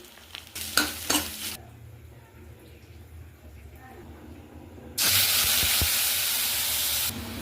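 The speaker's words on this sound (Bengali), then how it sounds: "স্বাদের কথা মাথায় রেখেই আমি দুটো ডিম ভেজে দিচ্ছি" Two eggs frying in a pan: scattered scrapes and clinks at first, a quieter stretch, then a sudden loud, steady hiss of sizzling oil held for a couple of seconds before it drops away.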